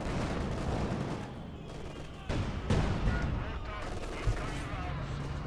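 Mortar fire in the real-time strategy game Company of Heroes 2: sharp, booming blasts land around 2.3, 2.7 and 4.3 seconds over a constant roar of battle and gunfire.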